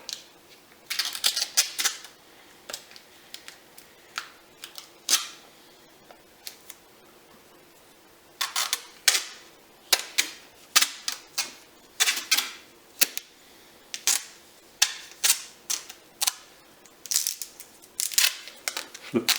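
Adhesive tape being wrapped tightly around the handle of a Fujimoto honesuki knife, heard as a quick series of sharp crackling pulls and tearing snaps, close and fairly loud, in irregular bursts with brief pauses.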